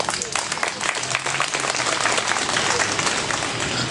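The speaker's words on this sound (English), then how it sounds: "We have to clap for them." An audience at a gathering on disability breaks into loud, sustained applause, dense clapping from a large crowd that continues steadily without pause.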